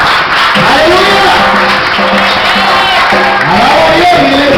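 A church congregation at a Spanish-language worship service applauds loudly, with clapping mixed with shouts, cheers and voices calling out over it.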